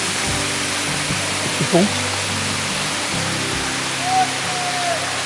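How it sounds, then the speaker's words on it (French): The Riou waterfall at Moustiers-Sainte-Marie gives a steady, dense roar of falling water that fills the whole scene, with someone speaking briefly over it and a faint short whistle-like tone near the end. "Là, on est sur la cascade du Riou."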